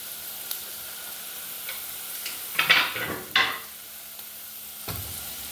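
Garlic drops into a sizzling homemade chilli mixture in a pan: a quiet background hiss broken by two loud scraping, crackling bursts in the middle and a few light clicks of a utensil.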